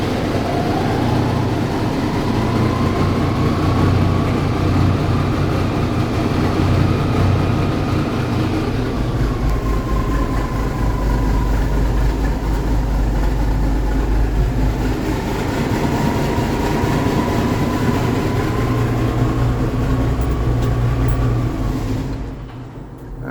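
A Peterbilt 359 truck's heavy diesel engine cranks up and settles into a loud, steady low idle that rumbles on alone for over twenty seconds before cutting off at the end.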